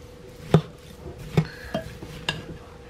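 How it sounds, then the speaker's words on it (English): Pie filling being mixed in a bowl, several distinct knocks and clinks of a utensil against the bowl spaced irregularly, close up with no talk. "Just give that a good mixing. Get it all mixed in."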